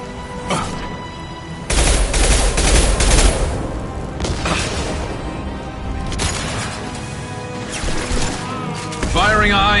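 Heavy gunfire from a high-impact shot in the video game Mass Effect 2: loud, dense bursts of shots in rapid succession, with a booming blast near the start, crashes of combat throughout, and voices speaking over the action.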